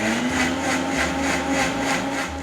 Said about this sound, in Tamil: கொஞ்சமாக தண்ணி ஊற்றி இதில் இந்த அளவு நான் அரைச்சிக்கிறேன் மிக்ஸி ஜாரில் போட்டு.